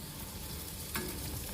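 Black beans are stirred into masala frying in a kadai. A soft, steady sizzle runs throughout, with a brief scrape of stirring near the end.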